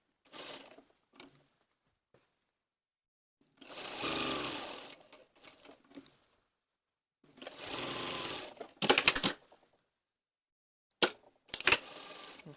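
Sewing machine stitching a waistcoat pocket bag in several separate runs, each a rapid mechanical whirr of a few seconds with short clicks between, and near silence in the gaps.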